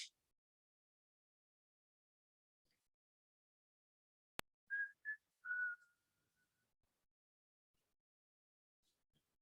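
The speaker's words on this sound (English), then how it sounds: "that whistle sounded kind of creepy of me" A person whistles a few short, clear notes in a quiet lecture setting, preceded by a sharp click; the whistle is brief and stands alone without talk.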